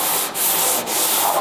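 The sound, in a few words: sanding Chevy car bodywork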